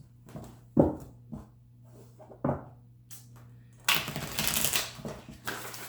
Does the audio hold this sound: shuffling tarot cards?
yes